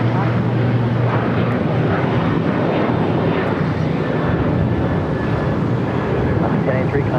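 An airliner takes off at LAX with a loud, continuous roar of jet engines and steady wind-buffeted rumble that stays broad and unbroken throughout, heard from nearby.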